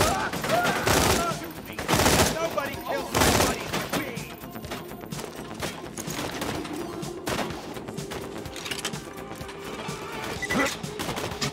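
Gunfire from real guns in a video game, with rapid bursts and heavy cracks rattling almost without pause, loud and close, while a voice speaks now and then underneath.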